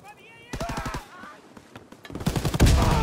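An MG 42 machine gun in Call of Duty WWII fires rapid bursts, a quick rattling volley followed by a louder burst near the end, with a voice talking over the gunfire.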